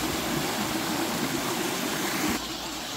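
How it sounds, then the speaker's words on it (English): A waterfall on a village river in Jamaica roars close by, a loud, dense, continuous rush of water that eases only slightly near the end. "I'm gonna show you guys the water falling, the waterfall. It's a good sound in the morning."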